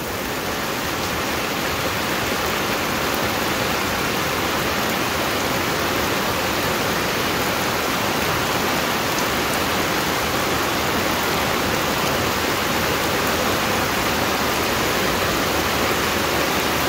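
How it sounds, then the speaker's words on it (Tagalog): Floodwater rushes past in a dense, loud, unbroken roar, steady from start to finish with no pauses and no voices. "Grabe naman ang baha."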